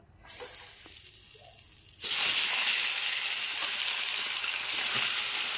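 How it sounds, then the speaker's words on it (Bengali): Fish hit hot oil in a pan and set off a sudden loud, steady sizzle that follows a quieter start and stays strong and hissing to the end. "তেল গরম হয়ে গেছে, এবার মাছগুলো ভাজবো।"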